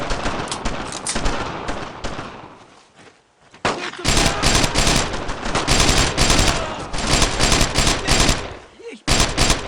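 Dense rapid gunfire from a World War II shooter game set on Utah Beach, bursts of automatic fire and single shots loud and sustained over several seconds with brief gaps, under faint background noise.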